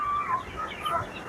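Young fighting chickens in a rearing pen cluck and chatter in short overlapping calls, a busy flock sound close by at moderate volume with soft background noise.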